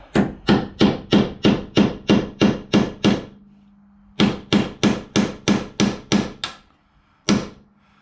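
A hammer taps a bolt extractor into a broken bolt with loud, sharp, evenly spaced strikes. A run of about ten comes first, then a short pause, a second run of about seven, and one final blow.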